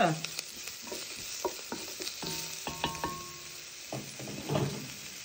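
Quiet sizzling as golden onions, carrots and parsley fry in a pan, with scattered spatula taps and scrapes that come irregularly, close by but faint.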